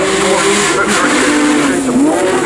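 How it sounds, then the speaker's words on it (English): A 1962 Ferrari 250 GT bread van with a 3-litre V12 race engine accelerating hard at a hillclimb event, a loud, close, sustained high-pitched engine roar that rises and dips in pitch as it pulls through the gears. "This is one of the best cars here, the unique 250 GT Ferrari, so-called bread van."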